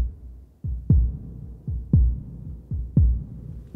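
A synthesized heartbeat effect from a film score plays alone: four slow, deep double-thump pulses land at an even pace, each a low booming beat followed by a softer echo, close and prominent with no voices.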